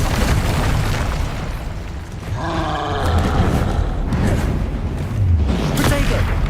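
An Incendio fire spell cast in Hogwarts Legacy lands as a loud, roaring burst with a rumbling low end. Combat sounds and a voice run underneath.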